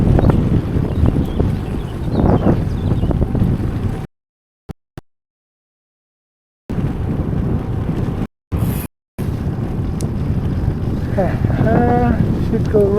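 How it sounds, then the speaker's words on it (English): Wind rumbles and buffets the microphone during a bike ride, a loud steady roar that cuts out into silence twice before returning. "Now it's peaceful and windy, but peaceful."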